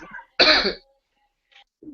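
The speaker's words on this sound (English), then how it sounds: "Quit coughing." A single harsh cough bursts out close by, followed by a brief softer sound, with bits of voice at the edges.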